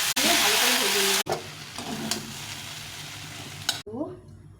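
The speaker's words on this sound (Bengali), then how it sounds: "ভালো করে ভেজে নেবো।" Pumpkin and long beans fry in a pan, giving a strong hiss and sizzle broken by abrupt cuts, with stirring, a near voice speaking over it, and a short quieter stretch at the end.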